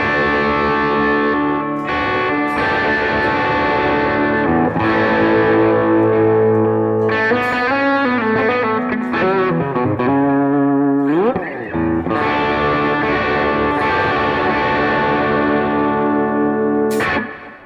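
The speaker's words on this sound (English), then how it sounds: "we're using the tape saturation side of the V1 Strymon Deco for just a little bit of beef added to the AC30," Gibson SG electric guitar played through a Vox AC30 amp with a Wampler Tumnus overdrive, spring reverb and Strymon Deco tape saturation, giving loud, continuous driven chords and riffs with a reverberant wash and no talking.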